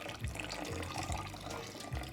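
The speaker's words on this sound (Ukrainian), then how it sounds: "потрошку тонкою струйкою по колу наливаємо наш мілк-панч" Milk punch trickles in a thin stream while poured in a circle during cocktail clarification, a faint soft liquid patter with a few small splashes.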